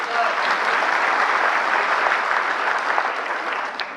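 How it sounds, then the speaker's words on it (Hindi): Steady applause from an audience at an Aadhaar document-update training session, dense and sustained, close and fairly loud throughout without any speech over it. "तो ये तालियां जो हैं"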